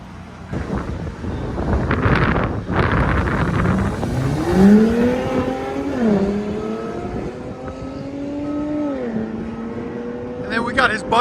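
A Mercedes E 400 with a 3.0L twin-turbo V6 and aftermarket X-pipe or Y-pipe exhaust revs outdoors, its note rising and falling through several sweeps amid wind noise, loud and close, with people talking over it.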